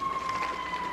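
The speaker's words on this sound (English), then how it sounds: "hearing the sirens of an emergency vehicle going by" An emergency vehicle siren wails with a thin, steady tone heard at a distance over the faint murmur of an outdoor ice rink, sounding for about a second without voices.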